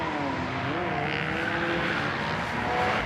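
A Toyota GR86 laps the Tsukuba circuit, its engine a steady mid-volume drone with rising and falling pitch, plus faint tire noise as it runs at speed.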